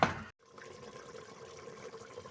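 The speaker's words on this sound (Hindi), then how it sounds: "ये अब हम इसमें तकरीबन ये आधा गिलास पानी का डालेंगे" Half a glass of water poured into a cooking pot of whole-spice chicken curry, a short splash followed by a steady liquid pour and bubbling hiss, close and alone.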